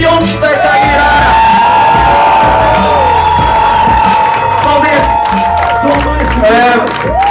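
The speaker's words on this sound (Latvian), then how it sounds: "Paldies, aplausus jums" A game-show studio audience erupts in loud, sustained cheering, whoops and clapping, continuous throughout over a held musical tone.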